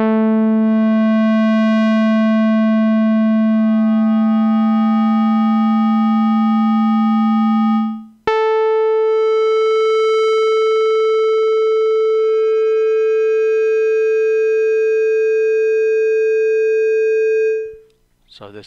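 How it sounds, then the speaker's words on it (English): Two sustained synthesizer tones from a Yamaha Reface DX playing a voice wave example: a low bright tone for about eight seconds, then a higher held note for nine seconds, loud and close with no talking. "So this is the Reface DX tutorial voice wave example."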